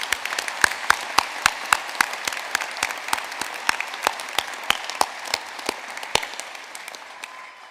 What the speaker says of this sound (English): I'd wonder if you'd do me the kindness of joining me in a round of applause for them